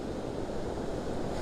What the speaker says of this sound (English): Love the shape of the waves.